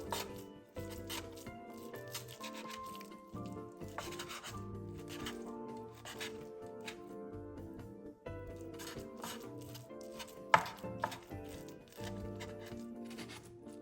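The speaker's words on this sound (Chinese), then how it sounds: "先用刀背拍一拍，再稍微切细" A knife chopping peeled shrimp on a cutting board, with many light, uneven taps and scrapes repeating close by over soft background music.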